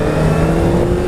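A 2014 Suzuki Hayabusa GSX1300R motorcycle engine runs steadily at high revs, a loud, continuous drone close by.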